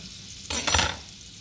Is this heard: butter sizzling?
yes